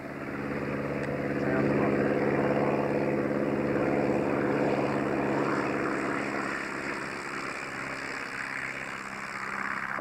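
Open-cockpit Sportster Aero aircraft taxiing before its first liftoff, its propeller engine droning steadily and loudly throughout with a strong, even hum and some wind noise.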